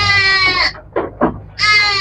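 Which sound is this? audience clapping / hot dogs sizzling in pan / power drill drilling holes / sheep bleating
sheep bleating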